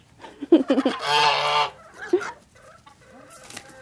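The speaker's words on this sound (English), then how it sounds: "Here comes the turkeys." Geese and turkeys call close by, a burst of short honks followed by a long, loud honking gobble, then scattered quieter clucks and honks trailing off.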